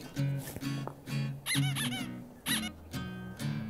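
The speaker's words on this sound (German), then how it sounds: "Quietsche Entchen." A squeaky rubber duck toy is squeezed repeatedly, giving sharp, bright squeaks in an irregular rhythm close by, over a droning, buzzy background.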